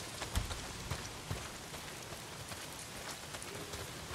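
Heavy rain pours in the video game Days Gone, a dense, steady hiss of drops on surfaces with a few louder nearby splats early on, fairly quiet and without voices.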